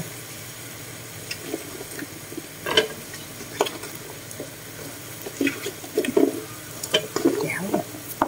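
Tofu, bottle gourd and bitter melon get stirred in a pan, with scraping and clattering utensil strokes in irregular bursts over a low sizzle, close and moderately loud.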